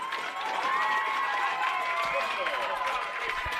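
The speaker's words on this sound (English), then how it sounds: "Crowd is absolutely rocking and rolling now, both sides into it." A crowd cheers at a boys lacrosse semi-final in Orange County: a loud, sustained roar of voices and clapping from both sides of the stands, with a commentator talking over it.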